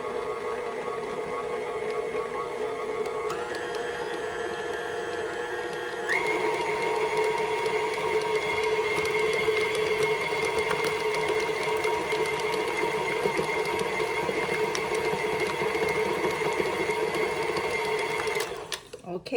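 Electric hand mixer creaming a doubled batch of icing sugar mixture for shortbread cookies, a steady whining motor drone that steps up in speed partway through and runs continuously, close and loud, before cutting off.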